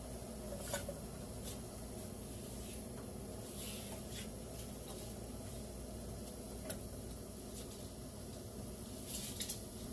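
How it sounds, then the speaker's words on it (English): Bacon frying in a pan on a stovetop for Scottish rumbledethumps, a steady close sizzle and crackle with scattered brief pops and faint utensil scrapes, no talking. "So first thing we're going to do is we're going to start cooking up our bacon"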